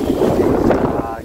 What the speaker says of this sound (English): But that wind is picking up. It's probably pushing 60 kilometers an hour now.